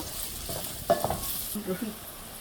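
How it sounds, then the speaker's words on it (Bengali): Onions frying in a pan with salt, cooking down until browned, a soft steady sizzle with a few brief stirring scrapes, close and moderately quiet. "পেঁয়াজটাকে সুন্দর লাল করে নেব"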